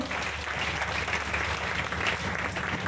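Steady, dense applause from a crowd, sustained clapping throughout with no pauses.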